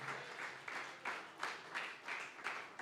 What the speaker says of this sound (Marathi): आज आप ताली बजा रहे हो